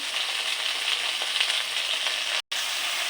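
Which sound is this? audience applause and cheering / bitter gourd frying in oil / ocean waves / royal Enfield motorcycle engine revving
bitter gourd frying in oil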